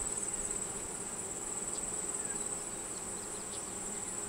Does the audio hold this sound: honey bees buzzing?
yes